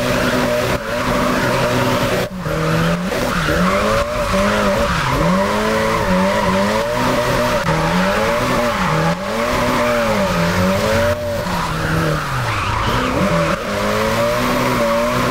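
Race car engine in a racing video game, with sustained tire squeal and skidding as the car slides through corners; the engine pitch rises and falls steadily, loud and continuous throughout with no talk.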